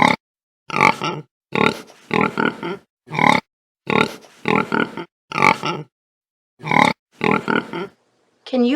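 Pigs grunt and oink on a farm, a series of short, loud bursts separated by silences, some in quick doubled or tripled runs, heard alone and close.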